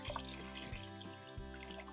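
Liquid stain pours through a screened funnel into a milk jug, a quiet steady trickle and faint dripping with a low resonant hum underneath, close and soft.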